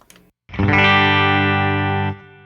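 Fender Jaguar Classic Player Special HH electric guitar on its bridge humbucker in normal mode, heavily distorted: one loud strummed chord rings out for about a second and a half, then is cut off sharply.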